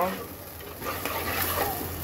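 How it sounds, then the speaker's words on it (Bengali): Ginger, garlic and onion paste with chopped onion fry in a pan, giving a steady, fairly loud sizzle with stirring scrapes throughout, close by and without talk. "এবার আদা, রসুন, পেঁয়াজ বাটা আর কুচি করা পেঁয়াজটাকে খুব সুন্দর করে ভেজে নেব।"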